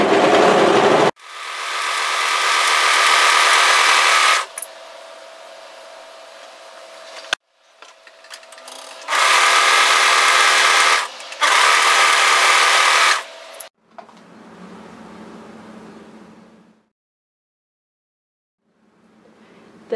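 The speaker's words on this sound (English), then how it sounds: "let's overlock across the top for both the front, and we're going to be repeating this for the back" An overlocker sews across the top of double knit fabric pieces in a few loud, close bursts of rapid mechanical whirring, separated by short pauses and quieter low hums.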